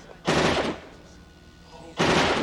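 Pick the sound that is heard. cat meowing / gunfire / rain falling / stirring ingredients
gunfire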